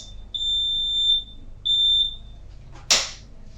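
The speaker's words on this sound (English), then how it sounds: "as soon as the connection will break like this, the alarm will start ringing inside your house" A home security intrusion alarm sounds two long, loud, high-pitched electronic beeps, the first about a second long and the second shorter, followed by a sharp click or thud, with no talking.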